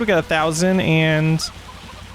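Chickens clucking in a farming video game, a few loud close clucks and squawks in a short burst, with a voice talking briefly over them.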